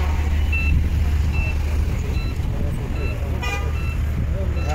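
Night road traffic near a harbor hums along with a low engine drone, broken by several short, high car-horn toots and beeps scattered through it, with voices faintly mixed in.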